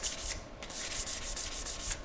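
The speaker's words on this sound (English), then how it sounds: "Again, I'm going to rub it, and again, you'll feel the difference." Hand rubbing a cured, epoxy-coated drone rotor: a steady run of close, loud sanding-like strokes in a quick regular rhythm, about a dozen passes with one brief pause, no voices.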